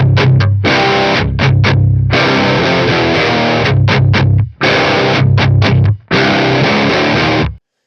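Heavily distorted electric guitar played through a Dr Bonkers 1x12 cabinet impulse response with the low cut at 80, loud chugging chords in bursts separated by brief stops, with no talking.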